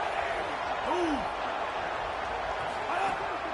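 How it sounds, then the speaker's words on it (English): Boise State football crowd roaring on third down at a packed stadium, a steady loud wash of cheering and noise that fills the whole stretch, with a commentator's voice faintly over it. "This Boise State crowd bringing the noise. It's deafening here on 3rd down."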